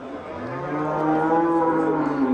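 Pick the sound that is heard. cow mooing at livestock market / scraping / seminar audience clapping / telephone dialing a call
cow mooing at livestock market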